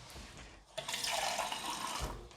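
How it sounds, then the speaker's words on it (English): Water pours into a pan of curried beans, a steady splashing stream that starts abruptly and runs on, close and fairly loud, with no talk over it. "So let's add that water in"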